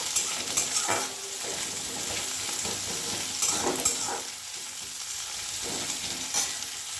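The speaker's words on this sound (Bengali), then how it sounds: "পেঁয়াজটা দিয়ে একটু হালকা লাল করে নাড়াচাড়া করে নেব" Onions frying in oil for a mixed dal tarka, stirred repeatedly, with steady close sizzling and periodic scraping strokes of a spoon against the pan, no voices.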